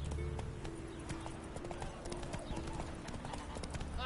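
A horse's hooves clip-clop at a steady walking rhythm in the video game Witcher 3, fairly quiet and close, with faint background game ambience.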